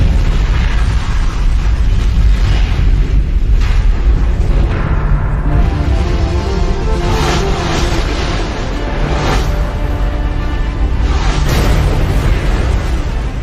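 A meteoroid bursting in the atmosphere over a city comes through as a massive, continuous roaring rumble, loud and dense throughout, with deep booming swells rising and falling across the span.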